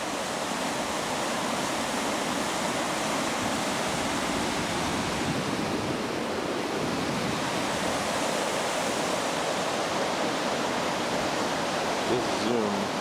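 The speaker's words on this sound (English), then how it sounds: "This is the Nantahala River Falls, as they call it." Nantahala Falls rapids on the Nantahala River in North Carolina roar steadily, a dense, continuous rush of whitewater that stays loud and unbroken throughout.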